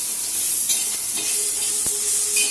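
Ginger-garlic paste mixture is stirred and fried in a pan for a brinjal bharit, giving a steady close sizzle with scraping stir strokes and a sharp clink of the spoon near the end.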